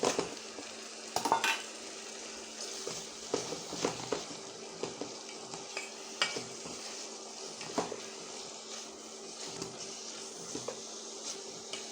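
Beef hits a hot pan with radish curry ingredients and sizzles steadily while being stirred, with scraping spoon strokes and occasional clinks of utensil against the pot, no talk.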